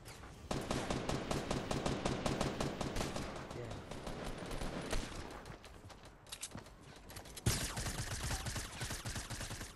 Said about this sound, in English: That's me, I'm shooting at him.